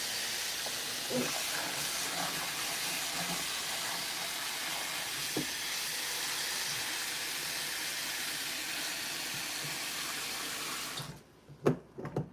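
Tap water runs steadily into a bowl to make a sudsy wash for fruit and vegetables before juicing, a continuous close hiss and splash that cuts off near the end, followed by a few small clinks.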